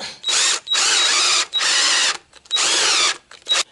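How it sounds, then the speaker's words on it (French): A power drill drills holes while a small shim is being made for a pedal assembly, with four long, loud bursts of steady whining separated by short pauses and no talking. "Perçage."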